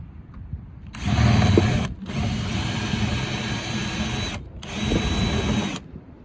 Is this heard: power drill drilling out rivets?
yes